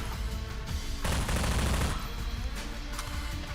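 Explosions and gunfire in a Half-Life 2 firefight while escaping City 17, with a dense burst of blasts in the middle over constant loud battle noise.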